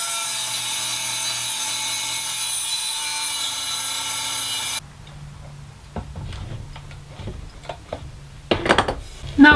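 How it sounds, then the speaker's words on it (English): A Dremel rotary tool cuts a wire notch in a copper pipe lamp, a steady high whine for several seconds that stops abruptly, followed by scattered clicks and light scraping of handling. "I'm going to do that with a Dremel tool."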